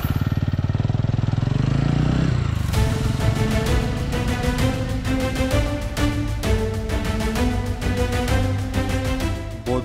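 A Royal Enfield Hunter 350 or TVS Ronin single-cylinder motorcycle is heard up close with its engine note steady at first, then a sharp change to a rougher, throbbing running sound that continues loudly to the end, with no talking.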